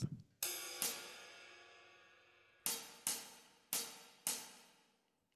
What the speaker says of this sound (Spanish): en la nota sol tenemos el hi-hat